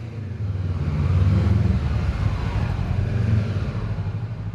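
A motorcycle engine held at high revs during a slow U-turn, a steady close rumbling drone with slight rises and dips in pitch as the throttle is feathered, running continuously with no talk.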